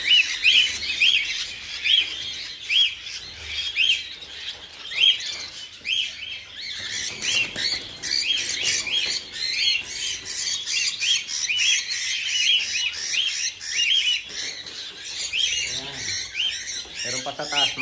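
Small birds chirp and tweet repeatedly overhead in an outdoor farm setting during a harvest, with dense, overlapping high calls running throughout at moderate volume, and a person speaking intermittently beneath them.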